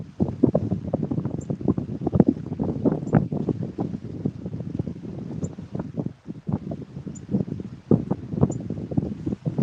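Wind buffets an outdoor microphone during a fishing trip, a steady low rumble of gusts swelling and dipping without pause, with faint rustling and no voices.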